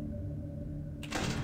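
A door in the game Ultra Custom Night slides with a mechanical hum that ends in a sudden loud burst of noise, close and without talk.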